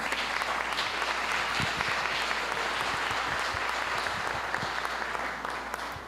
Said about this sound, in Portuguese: dando uma linda salva de palmas para Jesus.